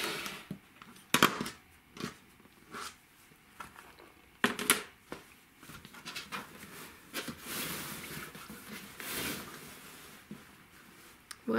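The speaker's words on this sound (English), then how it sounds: "trimming the points off on the top and the bottom" Scissors trimming the points off quilt fabric, a series of quiet snips and crisp cuts spaced irregularly, with fabric rustling and handling between them, close and soft.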